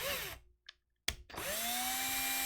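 Small rotary drill grinding green stuff putty off a Dark Elf Queen on Throne miniature: a loud, high motor whine cuts out, then restarts with a sharp burst and settles into a steady drone.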